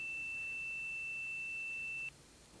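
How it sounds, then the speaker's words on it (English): A steady electronic square-wave tone from a bash script at 8K output holds one constant pitch for about two seconds, then cuts off abruptly, leaving faint low hiss. "So here's a little bash script that will play basically a square wave"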